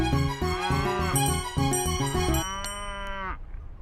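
Buffaloes moo in a series of loud, drawn-out calls, one following another, with the final long low moo trailing off at the end, heard close and without talk.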